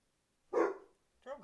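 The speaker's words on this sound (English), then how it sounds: "Sorry about my dog barking." A dog barks indoors: one sharp bark followed by a shorter second bark after a brief pause, both fairly close, with near silence around them.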